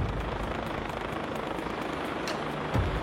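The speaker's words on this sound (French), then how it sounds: "L'hélicoptère s'engouffre dans le canyon et les secouristes sont prêts." A rescue helicopter flies into a narrow canyon between two mountain massifs in Provence, its steady rotor and engine roar filling the scene at a constant loud level, with a brief thump near the end.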